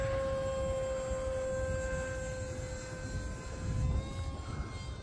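Hobbyzone Aeroscout RC pusher-prop trainer plane with its electric motor held at full throttle, a steady high whine with clear tonal harmonics droning continuously over outdoor background noise.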